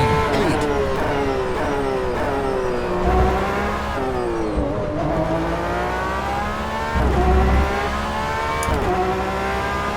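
GTE race car lapping in the rFactor 2 sim racing game, its engine loud and close throughout, rising and falling in pitch with repeated upshifts, downshifts and revving under braking and acceleration.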